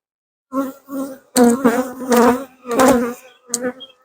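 Honey bees buzz around a hive frame during an inspection, giving loud close bursts of droning buzz that swell and fade as insects fly past, with short gaps between passes.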